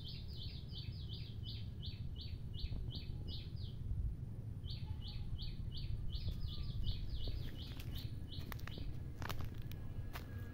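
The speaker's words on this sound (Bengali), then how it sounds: "ওই পাশে একটা পাখি।" Bright, rapid bird chirps repeat in quick series, pausing briefly then resuming, over a low steady outdoor rumble, fairly faint and at a distance.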